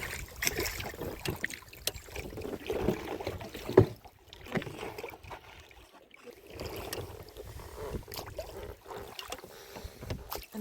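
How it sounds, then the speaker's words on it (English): A dinghy being rowed on Lake Te Anau, New Zealand, with soft water swishes and splashes from the oars, a knock of wood, and light wind, all fairly faint and close. "we're just going for a row in the dinghy"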